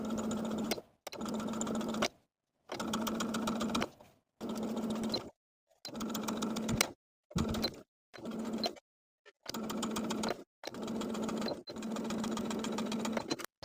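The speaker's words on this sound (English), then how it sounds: "Sew the facing to the seam allowance about 1/8 inch away from the original stitching line." A sewing machine understitches a garment facing to its seam allowance near the neckline of a summer top, running in about ten short bursts of steady stitching with brief silent pauses between them.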